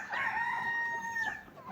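Brahma and Noela chickens on a poultry farm: a single rooster crows nearby in a drawn-out call, with faint clucking around it.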